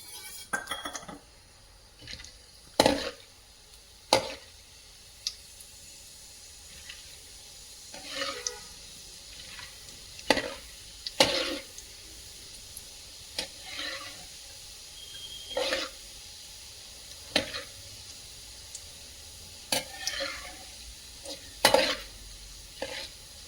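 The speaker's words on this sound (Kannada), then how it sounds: "ಎಣ್ಣೆ ಕಾದಿದೆ. ಈ ಸಂದರ್ಭದಲ್ಲಿ ಹುರ್ಗಡ್ಲೆ ಹಾಕೊಳ್ತಾ ಇದ್ದೀನಿ." Roasted gram tossed into hot oil in a pan sizzles quietly while a spoon scrapes and stirs it in repeated sharp clinks and strokes, each bursting out over a soft background hiss.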